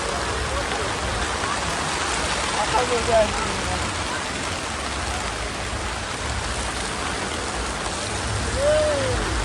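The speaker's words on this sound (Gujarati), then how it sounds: "એટલો વરસાદ આવ્યો" Heavy rain pours over an outdoor village fair in Gujarat, a thick, constant hiss of falling water that stays loud throughout, with faint voices and a few short tones rising through it.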